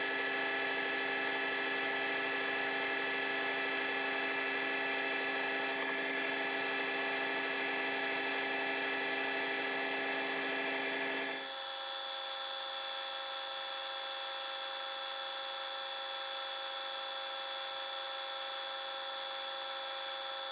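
A metal lathe cuts a taper with a steady, loud mechanical whine and dense tonal hum; partway through, the tone abruptly drops to a quieter, thinner running note. No one speaks.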